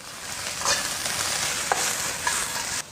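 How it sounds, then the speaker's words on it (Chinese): Duck meat stir-fried over high heat with scallion segments and ginger slices makes a loud, continuous close sizzle, with a few scraping spatula strokes against the wok, ending abruptly. "把锅置好过后下入鸭子肉，大火翻炒，丢入一点葱节和姜片一起炒"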